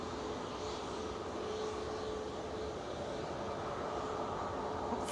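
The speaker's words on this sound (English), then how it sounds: "the Emirates is pushing back and starting up" An Emirates airliner pushing back at Manchester Airport sends out a steady, moderately distant engine whine and broad rumble that holds evenly throughout, with no voices over it.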